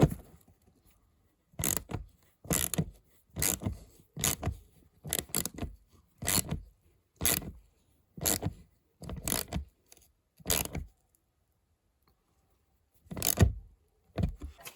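A wrench or ratchet tightens the nut holding the license plate on an Opel Insignia, giving a series of short, close scraping clicks in quick bursts with brief pauses, then a longer gap and two final clicks.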